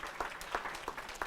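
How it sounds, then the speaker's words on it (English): Audience applause, a brief patter of clapping that sounds faint and somewhat distant, with no one speaking over it. "Give her a round of applause"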